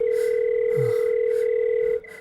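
A telephone line purrs with a steady, loud dial tone while a call is placed, holding for about two seconds before dropping abruptly to a quieter hum.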